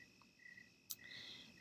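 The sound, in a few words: crickets chirping on a summer night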